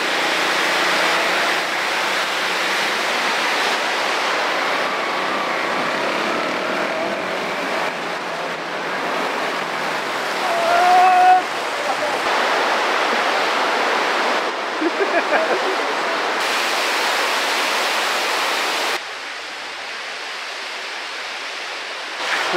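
Motorbike crossing a cold mountain stream in the Lower Babusar area, with steady broadband rushing water and engine noise throughout, a brief louder splash near the middle and faint voices underneath.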